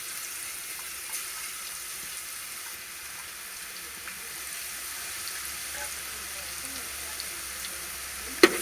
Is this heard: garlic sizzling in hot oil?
yes